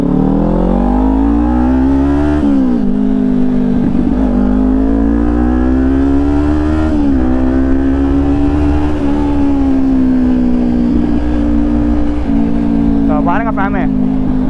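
A fully modified Kawasaki Ninja 400 motorcycle engine drones loudly and close, its pitch rising and falling as it revs and shifts through gears, with a few brief crackles near the end.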